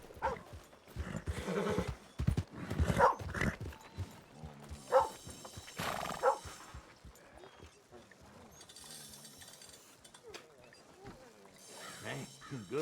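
A horse in the video game Red Dead Redemption 2 snorts and whinnies with some hoof clatter, loud and close, mixed with a man's speech and game sounds over about thirteen seconds.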